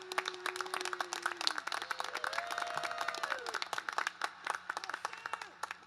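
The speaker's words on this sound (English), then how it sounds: "let's give President Vargas a round of applause in appreciation of his leadership." A college commencement audience applauds, a dense patter of clapping from the crowd that runs under a voice speaking the whole time.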